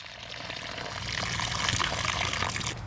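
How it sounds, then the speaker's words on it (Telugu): Rice being washed in water gives a steady rush of swishing, gushing liquid, close and continuous, swelling slightly louder toward the end. "బియ్యం శుభ్రం కడిగావయ్యా కడిగానే"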